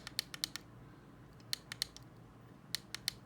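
A Logitech X-52 Pro joystick's center cover flipping and its weapon-release button clicking underneath: crisp, close, tactile clicks in three quick bursts of about four, separated by quiet pauses, with no talking.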